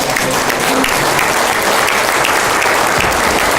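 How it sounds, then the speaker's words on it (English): A church congregation gives a standing round of applause for its youth group, loud, dense, sustained clapping that fills the room without a break. "just maybe stand up on your feet and give them a hand clap for everything that they've done this weekend"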